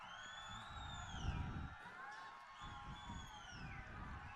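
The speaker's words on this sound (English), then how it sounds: "Crowd still enjoying the atmosphere." Cricket crowd at an evening match in Darwin, a steady roar of cheering and whooping with shrill whistles rising over it, continuous and moderately loud throughout.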